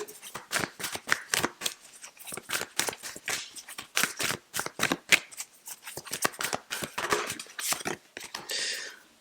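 Cards from a Work Your Light oracle deck are shuffled and drawn, making a long run of quick, close, crisp papery riffles and flicks that ends in a brief softer rustle.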